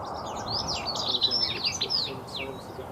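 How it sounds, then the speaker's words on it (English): A small bird, a blue tit, gives quick high chirping calls in an outdoor allotment, repeated bursts over a steady low background hum. "I think it's a blue tit"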